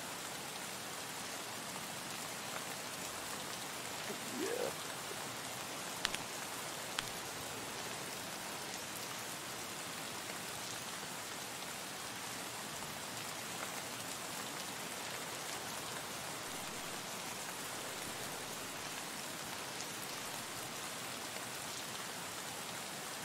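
Continuous rain falls in Escape from Tarkov on the Lighthouse map, a soft, uniform wash of drops that holds steady throughout with only a couple of faint knocks.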